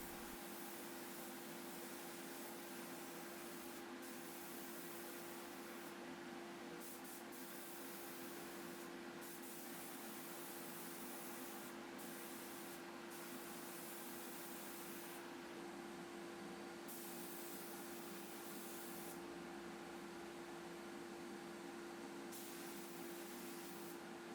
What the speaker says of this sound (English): I'll just move straight into spraying my lacquer